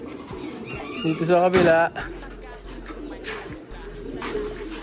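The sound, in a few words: pigeons cooing in cages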